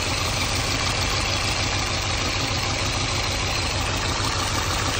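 A car engine that is smoking from one of two cylinders idles close by, a steady dense rumble that holds even in level with no change and no talk over it.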